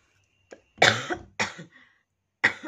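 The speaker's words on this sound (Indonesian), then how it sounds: "Jadi ini aku udah tinggal batuknya." Person with Covid-19 symptoms coughing nearby in a few separate bursts, one short cough followed by a harsher pair and a final cough after a pause.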